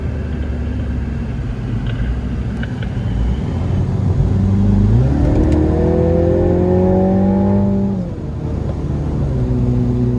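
A Mini John Cooper Works GP driven hard on a race circuit through chicanes: a close engine note climbs steadily in pitch under acceleration, then drops sharply as the driver lifts off and pulls back to a lower rumble.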